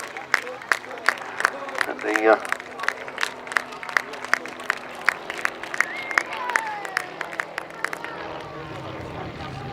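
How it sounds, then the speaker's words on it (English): Spectators clap and cheer at an outdoor pairs grasstrack motorcycle race, steady scattered applause with sharp individual claps throughout, a commentator's voice speaking over it on the public address. "Give them a bit of applause, ladies and gentlemen, encouragement"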